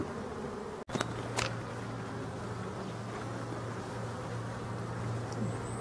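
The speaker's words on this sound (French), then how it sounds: "les abeilles ne sont pas bloquées" Honeybees buzz around hives in a forest, a steady close hum with a sharp click near the start and a few insects passing by.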